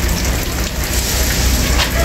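Steady rain falling outdoors in a foggy place near a school, a dense continuous hiss of drops on surfaces with no pauses, fairly loud and close throughout.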